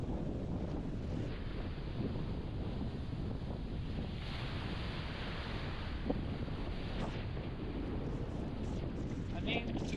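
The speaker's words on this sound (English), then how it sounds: "Yeah, the wind is so strong." Strong gusting wind buffets the microphone on a beach in Crete, a heavy low rumble that churns throughout with surf washing in behind it and a few faint bumps.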